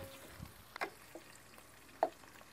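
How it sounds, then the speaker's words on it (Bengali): Chopped onion and chili frying in a pan, a faint low sizzle broken by a few sharp scrapes and clinks as the mixture is stirred. "বাদামি কালার করে আমি পেঁয়াজ মরিচটা ভেজে নিব"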